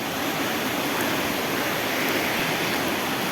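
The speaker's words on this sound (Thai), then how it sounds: "น้ำตกไหลจากเขา" A mountain waterfall at a hillside temple in Uthai Thani, Thailand, pours in a dense, steady roar of rushing water, loud and unbroken throughout.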